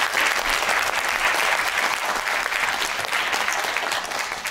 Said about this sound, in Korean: 혜진, 김찬, 정성영님께 다시 한번 큰 박수 부탁드립니다